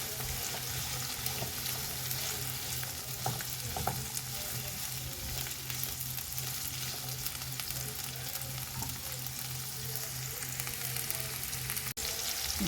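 Onion and garlic sauté in a pan with a loud, continuous frying sizzle and crackle. A steady low hum runs beneath it, and a single sharp click comes near the end; no one speaks.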